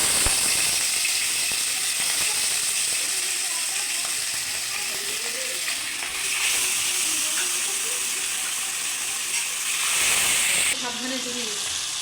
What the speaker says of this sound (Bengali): তেল গরম হয়ে গেছে, এবার আমরা একে একে মাছগুলো ছেড়ে দেব